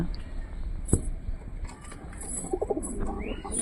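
Pigeons in a backyard coop coo softly at a moderate distance, a few low murmuring calls over faint ambient noise and brief clatter.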